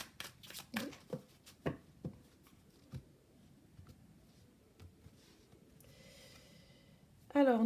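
Tarot cards riffle and slap in a quick series of soft, close bursts at first, thinning to scattered light taps, followed by a brief voice at the end.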